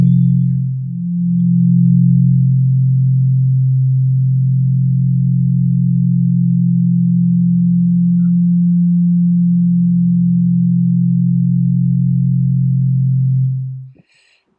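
Steady low synthesizer drone built from sine-wave oscillators, with a second voice added to the oscillator so the tone slowly beats and shifts, sustained for about thirteen seconds before cutting off; no talking.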